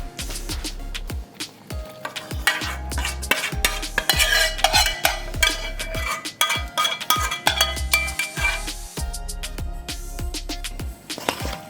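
A spoon works thick char siu sauce into raw pork wonton filling in a bowl, producing repeated close knocks and wet squelching strokes in an uneven, busy rhythm with no talking.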